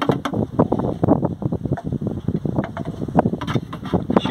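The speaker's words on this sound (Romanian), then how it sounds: "astăzi oricum nu este vremea favorabilă, este vânt" Gusty wind buffets the microphone in irregular bursts, loud and close, with rapid crackling thumps rising and falling.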